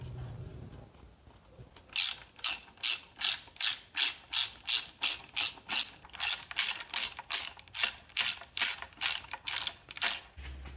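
A hand ratchet clicks in about twenty even, rhythmic strokes while tightening bolts on an FE 390 engine fitted with an Edelbrock Pro Flo 4 EFI, each stroke crisp and close.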